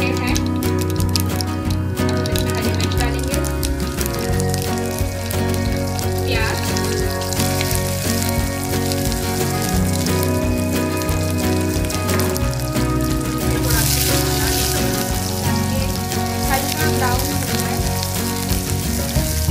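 Mustard seeds, cumin and fennel crackle and sizzle in hot oil, a dense, steady spattering that goes on without a break, with music playing underneath.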